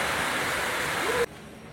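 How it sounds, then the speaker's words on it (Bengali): Heavy rain falls outside a balcony, a dense steady roar of broadband noise that cuts off abruptly after about a second and a quarter, leaving a quieter background. "বাইরে শুরু হয়ে গেছে প্রচন্ড বৃষ্টি"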